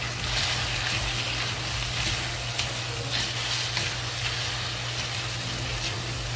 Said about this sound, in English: And then fry it.